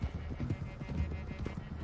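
Horses' hooves clip-clop in a steady trotting rhythm across Red Dead Redemption 2 terrain, close and moderately loud, with no talk over the short stretch.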